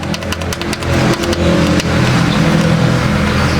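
A powerful 3 HP electric motor, run on a circuit protected by a resettable fuse, starts up and hums steadily and loudly, with a rising whir at first that settles into a constant drone with no talking.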